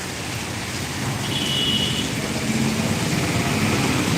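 Heavy rain falls at Saptagiri Circle in Anantapur in a continuous roar, growing slightly louder, with a faint brief tone in the background.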